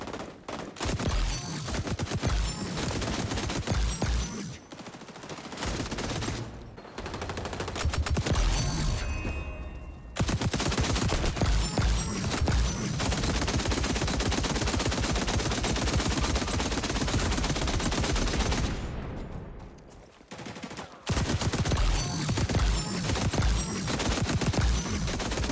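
Sustained heavy machine-gun fire from an M60 in the shooter game XDefiant, long loud bursts running almost continuously with two brief pauses, dense and close, no talking.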